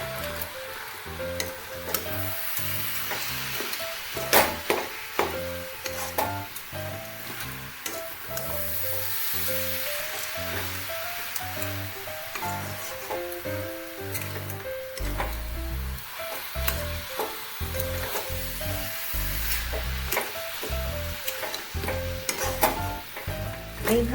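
Coconut filling mixed with khoa kheer is stirred in a pan over heat, a continuous sizzle under repeated close scraping strokes of the spoon, steady and fairly loud throughout.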